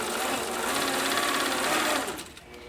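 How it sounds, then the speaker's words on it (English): An APQS longarm quilting machine runs steadily with a fast, even mechanical whir and hum, loud and close, easing off near the end; no speech. "I'm going to turn on my regulator, my machine."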